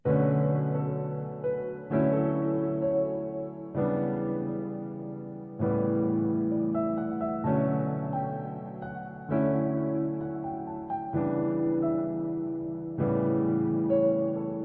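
A cinematic custom piano from the Keyscape LA collection plays a slow melody in phrases of repeated chords, each swelling and fading about every two seconds, clear and alone.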